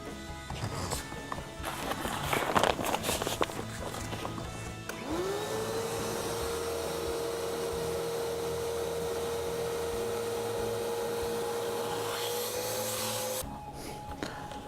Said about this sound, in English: we're going to install the vacuum in the bag to excavate the air out